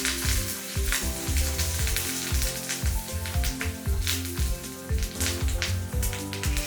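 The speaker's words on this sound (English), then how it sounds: "Add the tadka to the mango pulp mixture and stir well." A tadka of cumin, fenugreek seeds, red chillies, curry leaves and hing sizzles in hot oil for a mango curry, a steady close crackling hiss with quick popping spatters throughout.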